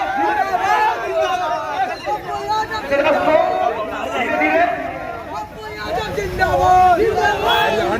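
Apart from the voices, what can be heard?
large crowd chattering at a temple event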